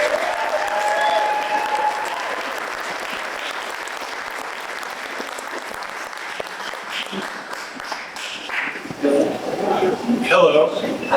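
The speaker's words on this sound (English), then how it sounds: "give a round of applause to our speaker of the evening" An evening speaker-series audience for a local history organization claps at length for its speaker, steady applause that swells again near the end with some voices in the crowd.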